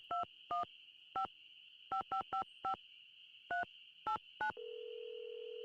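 A phone number is keyed in a Nancy Drew video game: eleven crisp touch-tone beeps in irregular clusters, each short and clear, followed by a steady dial tone humming to the end.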